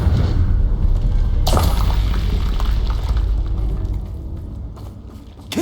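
An Incendio fire spell cast in Hogwarts Legacy, a loud burst that erupts partway in and trails into a rumbling, crackling roar before fading toward the end.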